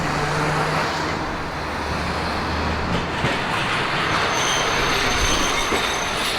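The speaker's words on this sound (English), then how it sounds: "We caught the first tram." A tram pulls in and runs along its rails at a station in Tokushima, Japan, a steady rolling rumble with faint wheel squeal, close and continuous throughout with no talking.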